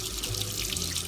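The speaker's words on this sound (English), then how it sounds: "So let me turn the water on," Water runs steadily from a kitchen tap into a sink, a constant close hiss that fills the whole short moment.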